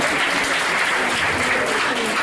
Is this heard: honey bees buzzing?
no